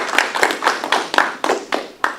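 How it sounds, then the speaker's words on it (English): A small audience at an MIT lecture on hydropower and energy in East Africa claps in a brisk, even rhythm, each hand clap distinct and close for about two seconds, with no talking over it. "please, everyone, give a warm round of applause"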